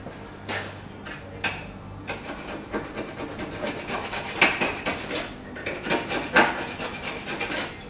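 Body filler being mixed for a plastic bumper repair: a spreader scrapes and rubs against a board in repeated short strokes, quiet and close, with a few sharper clicks and taps along the way.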